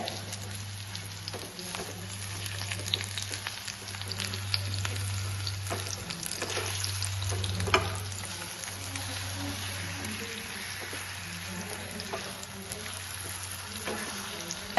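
Powdered jaggery melts in a hot pan with a steady, soft sizzle and occasional stirring scrapes, a low continuous hum running beneath, with no talking.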